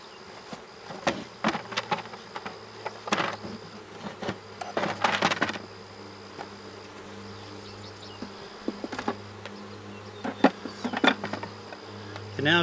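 Mountain Grey Caucasian honeybees swarm around an open hive during an inspection, a steady close buzzing with individual bees darting loudly past the microphone in repeated bursts, no talking.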